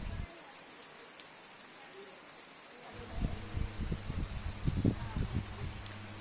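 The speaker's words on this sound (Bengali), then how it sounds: "রিমঝিম রিমঝিম বৃষ্টি শুরু হয়ে গেছে, প্রচণ্ড বৃষ্টি হচ্ছে" Heavy rain falls on a road, a steady soft hiss that continues throughout, and a person starts talking over it about halfway through.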